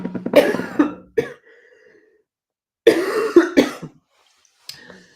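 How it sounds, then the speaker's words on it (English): Two bouts of harsh, close coughing separated by a pause, each a cluster of rough coughs, then a faint final cough. "I'm going to start coughing"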